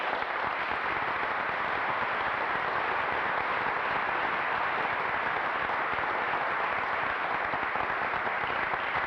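A conference audience applauds steadily throughout, a dense, even wash of clapping from a large crowd with no pauses and no talk.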